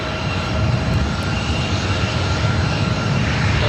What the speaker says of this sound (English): Delta connection, SkyWest CRJ 700ER.